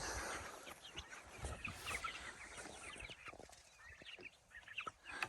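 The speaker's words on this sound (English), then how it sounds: "So here's the broilers. They just got their breakfast." Broiler chickens in a coop just after their breakfast feed, giving off scattered clucks and soft calls at moderate distance over light rustling, with no voices.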